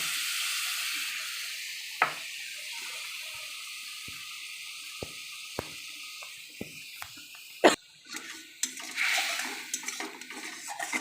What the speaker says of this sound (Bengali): এই গোলা তেঁতুলটার জলটা দিয়ে দেব।